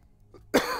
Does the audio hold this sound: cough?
yes